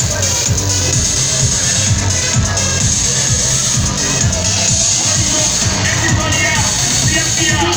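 Dense, steady crowd hubbub on the Universal Studios tour, with many overlapping voices and shuffling at close range throughout.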